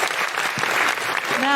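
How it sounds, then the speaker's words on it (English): A brief patch of light audience applause at a live comedy podcast recording, a few scattered claps blending into a steady wash that stays fairly close and moderate in level, with a short voice tone near the end. "A little applause came out."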